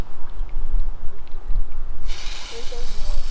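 A low watery rumble, then a steady hiss of fresh water spraying from a hose that switches on partway through and keeps going, at an RV park in the Florida Keys.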